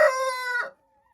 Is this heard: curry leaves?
no